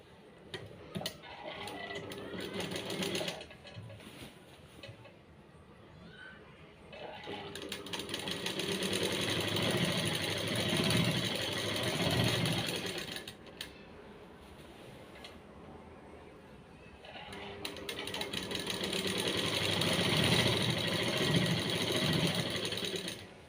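Sewing machine stitching a pocket onto a maxi dress with a double line of stitches, running in two long loud bursts separated by a brief quieter pause, steady and close.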